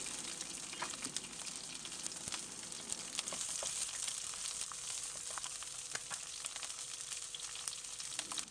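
Dried red chilies, green chilies and curry leaves fry in coconut oil with a steady, dense sizzle and occasional crackling pops, close and continuous with no voices.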